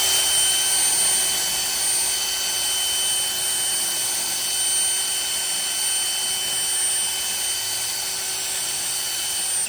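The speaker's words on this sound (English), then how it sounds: "I put my little rotary bit on the drill, and I'm hoping that will be enough" A drill fitted with a small rotary bit widens a bolt hole during an air brake compressor install on a truck, giving a continuous high whine with steady tonal harmonics and no talk.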